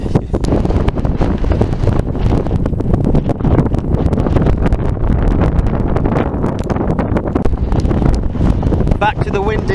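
Strong gusting wind on a hilltop at Ladybower in the Peak District, buffeting the microphone in loud, continuous rough blasts for the whole stretch, with no clear talk.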